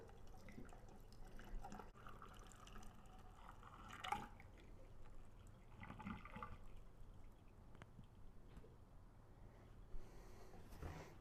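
Diesel exhaust fluid trickles slowly from a jug into a funnel on a GM 3.0L Duramax diesel, a steady, quiet liquid pour with faint dripping and small splashes throughout.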